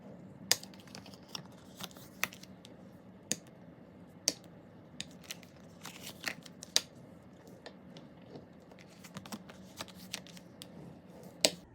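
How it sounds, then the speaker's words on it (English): Sharp crinkly clicks and rustles of PET tape being refolded along its fold lines on a handmade storage folder, close and fairly quiet, with irregular snaps scattered over a soft rustling bed. "So now I'm going to refold along my fold lines."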